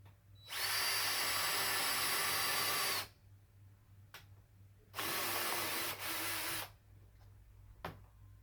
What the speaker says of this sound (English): So again, the first thing you do is pre-drill.